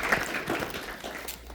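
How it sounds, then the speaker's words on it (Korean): A lecture audience at a cybersecurity seminar claps in a brief, dense burst of applause that holds steady throughout. "다시 한번 뜨거운 박수 부탁드립니다"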